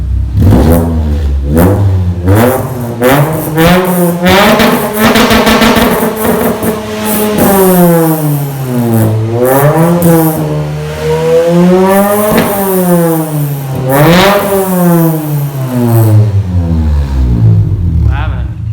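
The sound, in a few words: car engine revving through sport exhaust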